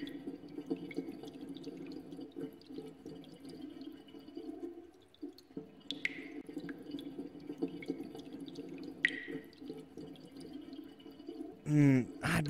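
Steady running water with scattered drips in the video game Reversion, close and quiet, with drops plinking now and then over the flow and a brief burst of voice near the end.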